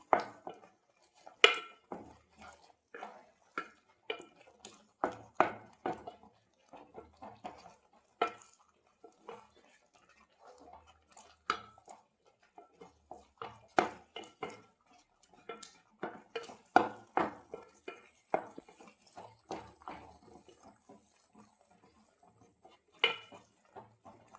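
Kerala-style halwa is stirred in a pan, the spoon scraping and clanking against the metal in repeated, uneven strokes, close and fairly crisp, with no talking.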